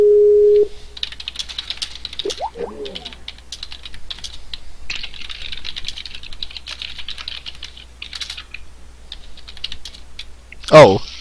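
Rapid, continuous clicking of fingers typing on a computer keyboard, close and clear, preceded by a brief electronic tone and ending with a sharp knock.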